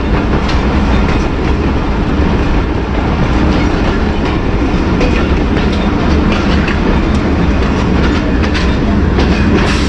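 The Mianwali Express rolls along the track near Sargodha Junction, heard from on board as a loud, continuous rumble and roar with rhythmic clickety-clack of wheels over rail joints throughout.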